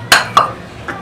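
Spoon clinking against a large bowl while spices such as pomegranate seed powder, coriander powder and fennel are mixed as karela stuffing; three short metallic clinks, close and fairly loud, with no talk.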